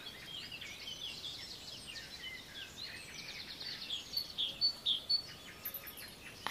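Birds chirp and sing continuously in the distance, with several brighter, nearer calls toward the end over a soft outdoor hiss.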